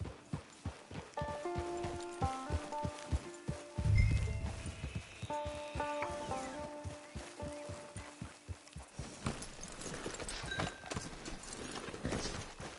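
Horse hooves clip-clop at a steady walking rhythm in a video game, close and clear, with a brief snort or whinny partway through and a game music score underneath.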